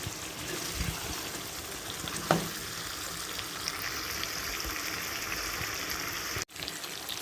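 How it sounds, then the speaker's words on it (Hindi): Mutton and potatoes sautéing in a pot, a steady, even sizzle that runs throughout, with one brief clink near the middle. "अब हम इसे 5 मिनट तक भून लेंगे ताकि अच्छी सी इसकी खुशबू आने लगे"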